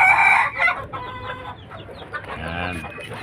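A brooding Cuban tiger hen gives a series of close, throaty clucks and a drawn-out grumbling call, uneven in rhythm, with faint background noise.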